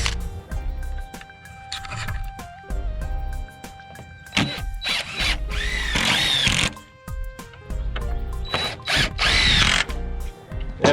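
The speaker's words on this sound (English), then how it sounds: "we drill the ends of the boards because we drill the ends of the cedar" A power drill pre-drills the ends of cedar fence boards in repeated loud bursts of whirring and grinding, up close, with brief pauses between runs.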